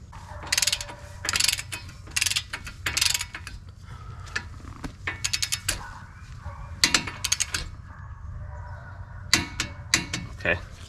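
A ratchet tightening a suspension bolt on a Chevrolet Tahoe Z55 with autoride suspension: repeated close bursts of rapid clicking strokes in uneven groups, with pauses and faint background noise between.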